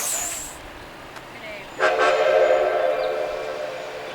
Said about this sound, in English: the train pulled out, with 3 cars in front of Shay 2